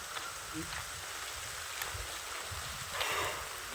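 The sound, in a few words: heavy rain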